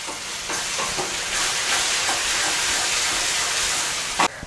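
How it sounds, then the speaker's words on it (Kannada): Tomatoes frying in a pan for egg bhurji make a loud, continuous close hiss and sizzle, with faint stirring scrapes and a sharp utensil knock near the end. "ಇವಾಗ ಟೊಮೊಟೊ ಹಾಕಿದ್ಮೇಲೆ ಒಂದು 2 ಮಿನಿಟ್ಸ್ ಚೆನ್ನಾಗಿ ಫ್ರೈ ಮಾಡ್ಕೊಳ್ಳಿ."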